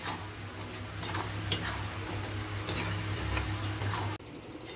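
Mushroom chicken with pressed kasuri methi being stirred in a pan, a steady soft sizzle with scraping and clicking stir strokes, close and moderately quiet, ending abruptly near the finish; no talking.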